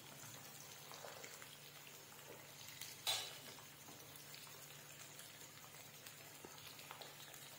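Potatoes deep-fry in hot oil, a faint, steady, hissing sizzle with one brief metallic clink partway through.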